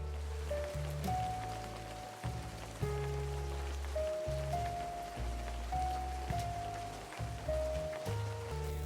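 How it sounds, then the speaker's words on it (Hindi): Rain falls steadily outside a room in an animated horror story, a soft, continuous patter under quiet, slow background music with sustained notes. "बाहर बारिश हो रही थी।"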